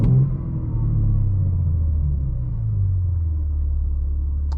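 A BMW M3 G80 with a manual gearbox and M Sound Control on gives a loud, deep, continuous engine drone, its pitch drifting gently up and down as it revs.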